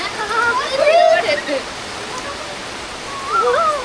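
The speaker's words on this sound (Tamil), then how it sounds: "பாருங்க மழை வெளுத்து வாங்கிட்டு பாருங்க" Heavy rain pours steadily outside during a storm, a loud continuous hiss filling the background while a person talks over it.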